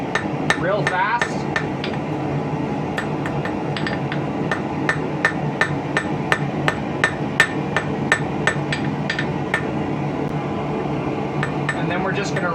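A small fishing hook is forged by hand, its taper hammered thin on an anvil with rapid, evenly spaced ringing metal blows that continue throughout at close range.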